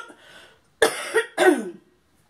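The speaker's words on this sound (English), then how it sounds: "I only have the urge to cough when I take a deep breath" Two sharp, harsh coughs in quick succession, close up, following a brief soft breath or murmur.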